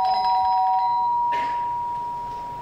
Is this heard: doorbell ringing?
yes